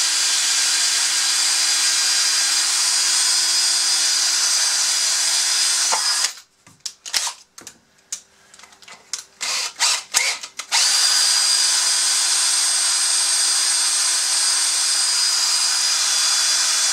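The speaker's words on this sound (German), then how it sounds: "am besten irgendwo einspannen, Akkuschrauber, Bohrmaschine, Gas geben, bis es warm wird und dann einfach rausziehen" A cordless drill spinning out an axle from a Bruder Volvo dumper toy whirs continuously at high speed, stops for a few seconds of clattering and handling noises, then spins up again and keeps running.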